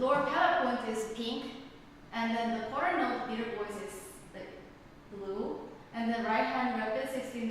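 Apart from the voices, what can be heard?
No everyday noises stand out.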